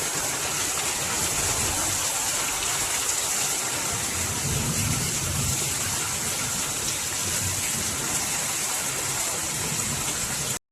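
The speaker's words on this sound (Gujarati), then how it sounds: "જોરદાર વરસાદ" Heavy summer rain pours down on a village house and courtyard, a dense, steady hiss of loud downpour that holds without letup throughout.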